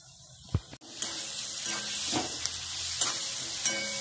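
Onion, asafoetida, garlic and green chili frying in oil for pithla (zhunka), a steady hiss of sizzling with a few sharp clicks and scrapes of stirring, close and moderately loud, no talking.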